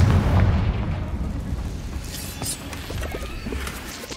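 The Confringo fire spell bursts in the video game Hogwarts Legacy, a loud, dense blast with a rumbling low end that stays roaring for several seconds without any talk over it.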